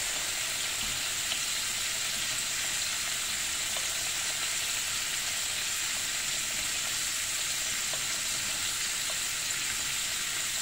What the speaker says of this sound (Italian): Abbasso qui la fiamma perché vedo che stanno bollendo.